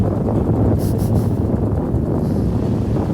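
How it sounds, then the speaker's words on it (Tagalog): Strong wind buffets the microphone in a constant, loud low-pitched rumble, with a brief faint higher noise partway through. "Ang lakas ng hangin."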